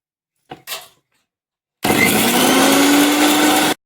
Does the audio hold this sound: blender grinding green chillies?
yes